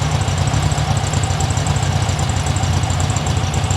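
A 1972 VW Super Beetle engine runs steadily to build heat with the engine cover closed, a loud, close, low throbbing idle with an even pulsing rhythm throughout.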